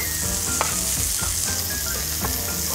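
Mushrooms frying in a pan give a steady close sizzle, with occasional soft stirring knocks over the continuous crackle.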